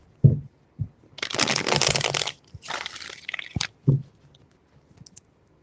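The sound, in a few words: shuffling a tarot card deck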